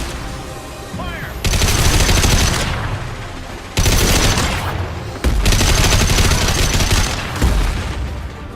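Gunfire in the video game Mass Effect 2, loud bursts of automatic fire in several long volleys separated by brief pauses, close and harsh.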